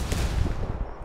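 A frag grenade explodes in a video game: one dense, rumbling blast that fills the whole brief moment, loud and close, with no voices.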